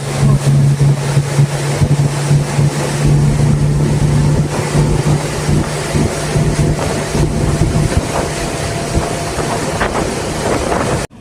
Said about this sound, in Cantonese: 好，坐船走啦。 去黃石碼頭啊。